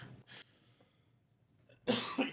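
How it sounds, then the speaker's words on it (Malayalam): A couple of sharp coughs burst out near the end after a brief softer one earlier, close and fairly loud against a quiet background. "ചുമ അങ്ങോട്ട് മാറുന്നില്ലെന്നേ, ഭയങ്കര കഷ്ടം"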